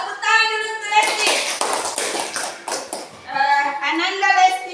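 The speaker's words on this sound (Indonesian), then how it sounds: "Tepuk tangan dulu untuk Lesti." Students in a classroom clap for a classmate named Lesti, a burst of dense, close applause of about two seconds, with voices talking before and after it.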